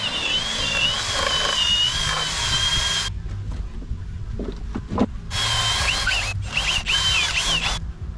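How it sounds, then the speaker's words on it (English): A power drill runs loudly with a high whine boring a 5/8-inch hole while building a ramp, stops briefly with a few knocks, then whirs again. "so I just gotta drill a hole that's about 5/8"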